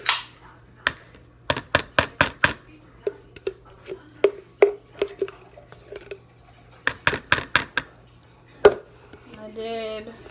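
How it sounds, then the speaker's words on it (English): Egg being whisked for Maryland crab cakes, a run of sharp clicking taps against a bowl coming in quick bursts with short pauses, close and moderately loud, with a brief voice near the end. "I whisk the egg and then I add mayo."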